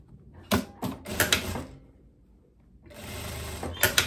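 A sewing machine stitches a seam on a striped linen dress, running in two close, loud bursts of rapid mechanical whirring with clicks, separated by a brief pause.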